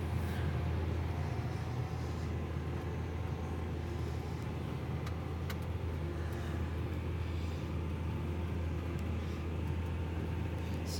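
A tractor chisel plowing in a field gives a steady low engine drone heard from inside the cab, even and continuous with only slight shifts in load and a few faint clicks.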